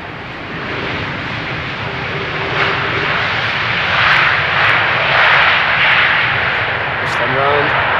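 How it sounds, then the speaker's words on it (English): An Icelandair Boeing 767 on flight 500 from Reykjavik roars in on landing approach to runway 27 at Amsterdam Schiphol. Its broad jet-engine rumble swells steadily louder and stays strong and close throughout, with no voices. "First, Icelandair coming in from Reykjavik,"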